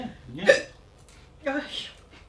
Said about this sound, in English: I'm even getting the hiccups.